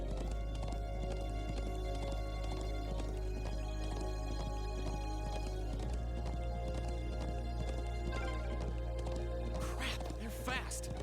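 Galloping horse hooves clatter in a fast, steady rhythm throughout a chase scene in the video game Trails of Cold Steel, with a rumbling backdrop and a brief burst of louder effects near the end.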